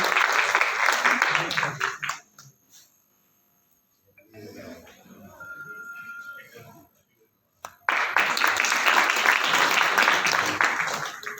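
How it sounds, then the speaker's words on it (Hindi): Loud applause at a Sindhi community meeting greeting a guest, with bursts of dense clapping at the start and again after a quieter gap in which voices and a faint tone are heard. "मिस्टर सुनील कक्कर, उनके लिए जोरदार ताली बजा दीजिए।"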